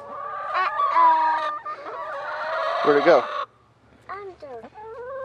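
Chickens clucking and squawking close by as they are fed, with a rooster-like call among them, while a person speaks briefly over the birds.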